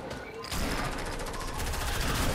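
Rapid pistol shots in the battle royale game Fortnite, a fast loud volley of cracks after a brief quieter lead-in, continuing to the end.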